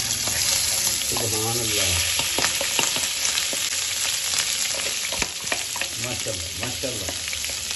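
Cauliflower frying in a hot pan with red chilli and crushed coriander, a steady loud sizzle running throughout while someone talks over it.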